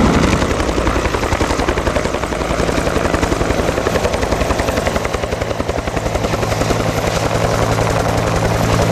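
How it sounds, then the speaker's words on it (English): A 1962 Huey helicopter's rotor thumps in a steady, rapid rhythm alongside a loud engine roar, close by and constant throughout with no voices. "this is a 1962 Huey Helicopter."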